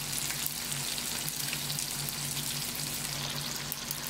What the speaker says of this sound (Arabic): We are frying them now.